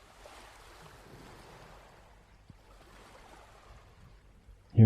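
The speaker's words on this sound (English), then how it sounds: "listening to the way the water rolls onto the shore" Soft ocean waves wash steadily onto a beach shore with a breezy, hissing surf texture, calm and continuous, ending in a sudden loud bump.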